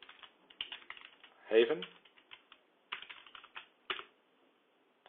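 Computer keyboard typing is heard as a scattering of light, uneven key clicks, mostly close but soft, with a brief spoken word in the middle of the tapping.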